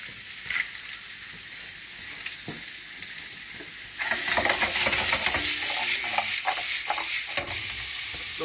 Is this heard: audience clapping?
no